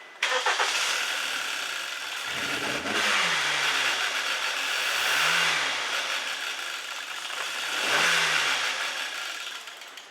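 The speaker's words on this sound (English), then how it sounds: "Now on this, I'll try to give some throttle." Car engine revving in three throttle blips during cam correlation code diagnosis, each rising and falling over a steady close idle, no talking.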